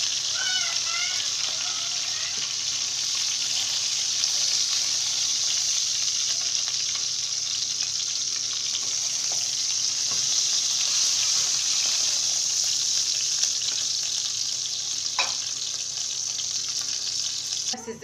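Chicken pieces fry in hot oil in a home kitchen, a loud, steady, close sizzle that runs without a break, with faint voice and utensil sounds just beneath.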